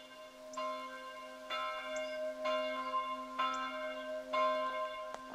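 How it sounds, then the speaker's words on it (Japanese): A small church's bell rings in slow, regular strokes, each ringing tone overlapping the last over a steady low hum, moderately distant. "これはその教会の鐘の音だね。"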